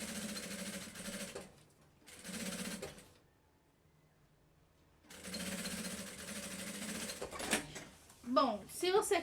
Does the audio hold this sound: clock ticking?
no